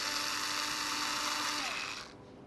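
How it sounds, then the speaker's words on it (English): A 16mm screw fitted with an M6 washer is driven into a tub through an access hole, giving a steady, close, high whirring drive that runs continuously for about two seconds and then cuts off. "Screw it loosely through the access hole and into the tub."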